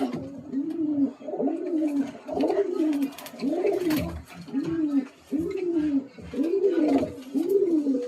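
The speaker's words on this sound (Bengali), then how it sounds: "পায়রাকে ধরা হয় না তো, বহুত ছটপটে পায়রা" A restless pigeon coos in a clear repeated rhythm, about eight rolling throaty phrases close by, with brief rustles and flutters of wings between them.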